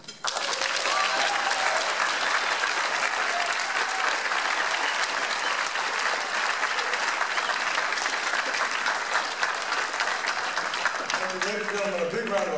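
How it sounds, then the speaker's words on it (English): An audience at a Hawaii Medical Association gathering breaks into loud, sustained applause that fills the room for over twelve seconds, dense and even with no voices standing out. "A big round of applause for a bunch of great volunteers up here"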